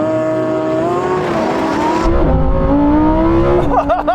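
Lamborghini Huracan STO, Ferrari 488 Pista and Porsche 911 GT3 launching together in a drag race, loud overlapping engines roaring and climbing through revs with an abrupt gear change midway and a short squeal at the end.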